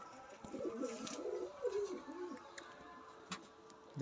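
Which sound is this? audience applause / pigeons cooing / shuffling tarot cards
pigeons cooing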